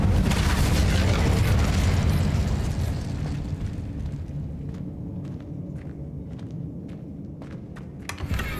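Incendio fire spell in the Hogwarts Legacy video game, a loud roaring whoosh of flame bursting at once, then fading into a lower rumble with faint clicks and taps.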